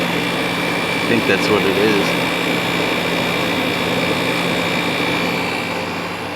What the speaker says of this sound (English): The compressor sounds good on this.